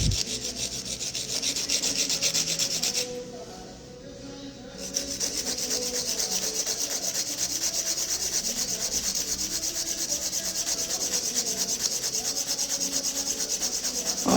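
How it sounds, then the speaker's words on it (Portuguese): A nail file rubs back and forth across a fingernail during nail maintenance with an F1 mould, making a steady, close, soft rasping that briefly eases off before continuing evenly. "Ó, vem lixando até ficar o comprimento da unha que ela tava embaixo."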